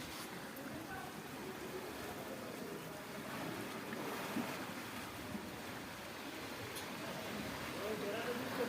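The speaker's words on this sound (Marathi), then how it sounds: "जशा समुद्राच्या लाटांचा आवाज येतो ना तशाच प्रकारे ह्या पण लाटांचा आवाज येत आहे" Loud, steady rush of the flooding Bhima River below the overflowing Ujani Dam, churning water and waves in a continuous roar with wind-like noise and no clear breaks.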